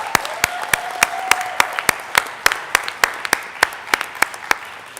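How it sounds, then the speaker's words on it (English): Applause from an audience for award winners at a climate solutions event, heard as sparse, distinct claps in an uneven rhythm, close and fairly loud, with a faint tone sliding underneath early on. "Again, a second round of applause."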